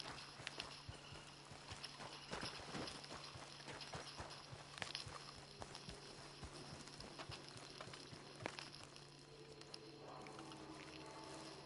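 Horse hooves clip-clop steadily in Red Dead Redemption 2, a continuous walking rhythm of moderate loudness over a busy ambient game background, with no talking.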